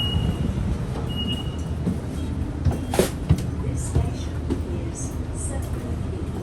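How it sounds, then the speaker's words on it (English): A train bound for the airport rumbles steadily throughout, with a broad, even low roar, occasional clanks and a faint high squeal, with a few faint voices mixed in. "I'll need to get on this train here because this one here is going to the airport"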